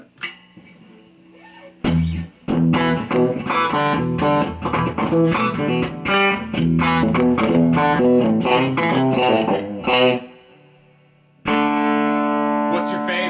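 A Chapman ML-3 Traditional electric guitar in satin blue, played through distortion: a loud, sustained run of chords and notes for about eight seconds, a brief pause, then another ringing chord that carries to the end.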